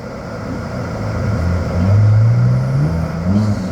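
A BMW car passes along a neighborhood street, its engine rising to a louder revving growl as it draws near, then easing off as it moves away, with no talk over it.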